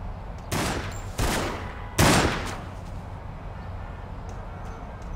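Gunfire in The Sopranos: Road to Respect comes as three loud, sharp bursts about a second apart, each crack trailing off briefly before a quieter steady background takes over.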